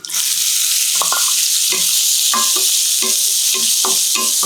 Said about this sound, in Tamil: இதில் ஃப்ரை பண்ணால் போதுமானது கொஞ்ச நேரம் ஃப்ரை ஆனாலே நல்லா ஃப்ரை ஆகிடும்